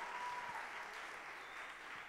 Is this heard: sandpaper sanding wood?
no